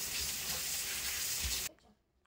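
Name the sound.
fish curry (pabda macher jhal) boiling in the pan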